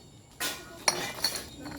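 Scrap glass bottles from a junk haul are handled, making a few sharp, bright clinks and knocks among soft rustling, fairly close and with no talk.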